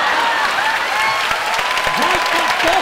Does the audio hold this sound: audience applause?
yes